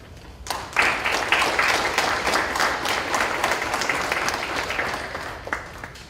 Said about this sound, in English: I would like to give Mr. Hayes in his absence a round of applause.